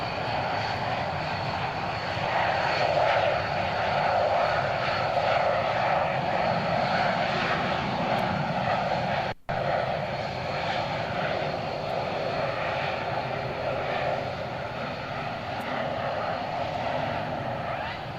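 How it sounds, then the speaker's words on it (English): Tornado jets at RAF Coningsby in a mid-1990s recording give a sustained, loud, broad engine roar that cuts out for a moment midway. "we've taken you back in time, probably mid-90s over at RAF Coningsby, looking at some of the tornadoes"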